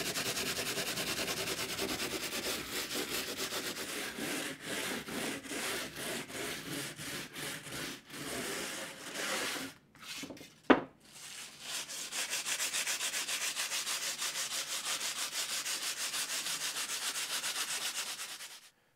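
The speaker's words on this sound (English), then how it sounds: "So now we're gonna get to start sanding, and I put together just a little hasty sanding block with some 400 grit paper." Steady back-and-forth rasp of 400-grit sandpaper worked by hand, first on a small wooden block, loud and close, with brief pauses in the middle and no talking.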